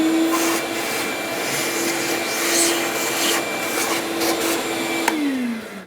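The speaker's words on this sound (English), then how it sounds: "I have a vacuum that I'm going to vacuum this up with" A vacuum cleaner sucks up debris from a Dodge Grand Caravan engine, running steadily with a constant whine and airy suction noise, close up; its motor pitch drops as it winds down at the end.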